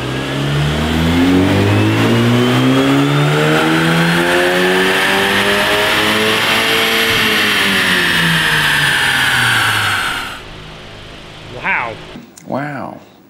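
A Volkswagen MK8 GTI with a Club Sport muffler pulling hard on a dyno, a loud engine rising steadily through the revs and then cutting off, followed by voices reacting.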